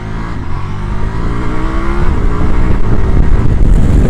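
A 2025 Ducati Multistrada V4S motorcycle accelerating hard, its engine note rising steadily in pitch and loudness, close and dominant with heavy wind rumble and no talk.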